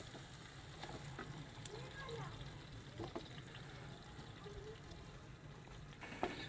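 Onions dropped into hot oil in a pan for a turnip curry, giving a quiet, steady sizzle with a few small clicks and pops and no talking.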